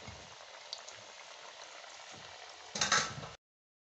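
Namak pare dough pieces fry in hot oil with a steady, close bubbling sizzle, which swells into a louder burst of crackling near the end before cutting off. No one speaks.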